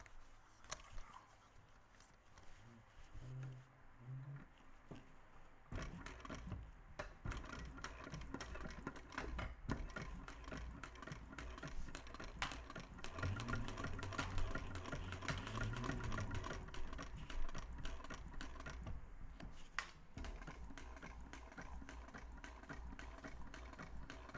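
A sewing machine stitching around a curved seam of a small bowler bag, running in a steady, fast mechanical chatter with brief pauses, close and fairly quiet.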